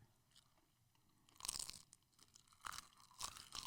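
Crisp, dried seaweed snack is bitten and chewed close to the microphone, with several loud, sharp crunches in quick bursts and no talking.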